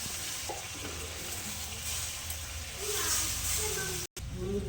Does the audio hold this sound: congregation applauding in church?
no